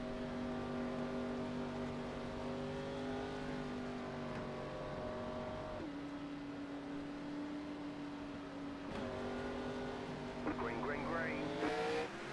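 Race car engines in a sim racing game of the ANZCAR Abruzzi Cup Series, a sustained tonal drone with shifting pitches as cars accelerate away at the race start, under steady commentary.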